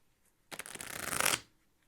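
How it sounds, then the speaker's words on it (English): A single riffle shuffle of a deck of playing cards makes one quick, bright ripple of cards flicking together, close by and lasting about a second, set against quiet. "Let's shuffle this deck briefly."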